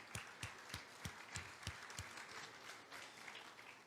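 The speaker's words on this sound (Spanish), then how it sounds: "Daré un aplauso fuerte" A church congregation bursts into strong applause during a Spanish-language sermon, with sharp, evenly spaced claps about three per second that soften into a looser, fainter patter toward the end.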